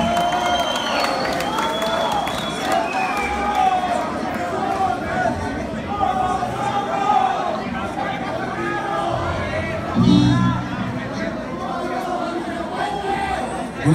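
An audience at a live May Day concert in Cochabamba claps and cheers, with crowd chatter mixed in and a brief louder burst of applause near the end.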